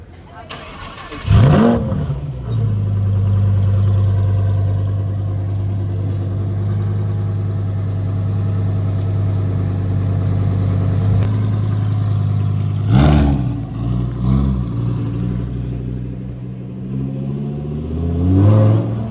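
A Porsche 918 Spyder supercar at Deauville starts with a sharp bark, settles into a loud, steady idle, then blips the throttle in several quick revs before pulling away, close by.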